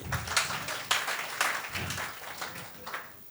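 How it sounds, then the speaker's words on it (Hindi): Audience applause at a talent show, a short round of scattered, uneven hand clapping with distinct individual claps pulsing in loose bursts, moderately near. "तालियां बजाओ भाई।"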